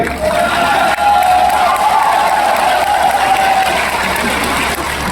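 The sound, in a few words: rally crowd clapping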